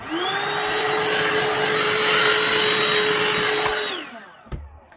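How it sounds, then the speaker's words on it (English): A vacuum cleaner runs steadily with a loud whine while picking up loose fibers from a blanket, then winds down and stops, followed by a soft knock. "I'm going to use my vacuum again for any loose fibers."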